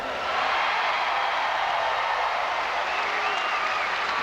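A large crowd applauds and cheers at a 1988 state championship basketball medal ceremony, a loud, sustained wash of clapping that swells and holds steady throughout.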